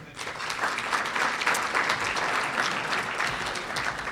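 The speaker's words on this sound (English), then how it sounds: "Everybody's good with their claps" A roomful of people at a chamber of commerce awards event applaud in a dense, even burst lasting about four seconds, with no speech over the clapping.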